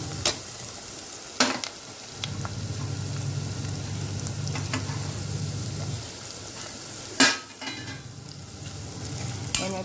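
Onions fry in a pan as a mixture is added, making a steady crackling sizzle across the whole stretch, with a few sharp clinks of a utensil against the pan and a brief louder clatter near the end.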